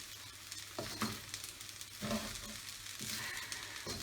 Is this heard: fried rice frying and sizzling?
yes